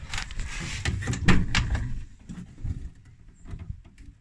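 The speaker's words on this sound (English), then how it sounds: "when I open the door, whether it's one-handed, reverse-handed, rather than pulling this, which is wobbly, all sorted" A car door on a Renault Twingo being prepared as a race car is opened, with a burst of clunks and rattling handle sounds up close, then quieter knocks.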